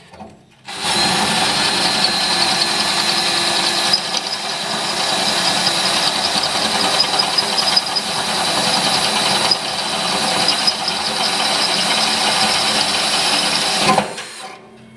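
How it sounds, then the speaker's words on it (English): A power drill fitted with a 3/8 inch bit, used while replacing a Broilmaster grill igniter, whines loudly and steadily for about thirteen seconds before cutting off, with no talking. "now we're going to try the 3/8 inch bit"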